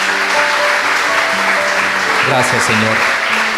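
A church congregation at a Spanish-language worship service keeps up loud, continuous applause for the Lord Jesus, dense and steady beneath a voice and sustained musical tones.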